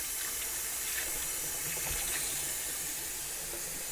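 Red potatoes are rinsed under a running kitchen tap, a continuous close hiss of flowing water with faint splashing and handling underneath.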